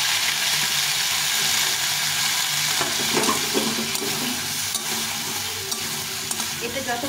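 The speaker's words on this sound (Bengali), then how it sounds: "দিয়ে এটাকে ভালো করে কষিয়ে নিতে হবে।" Jackfruit curry with spices sizzles and fries in a pan as it is stirred and sautéed, with water added, a steady close hiss broken by scraping strokes and bubbling pops.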